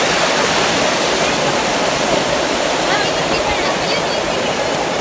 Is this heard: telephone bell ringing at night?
no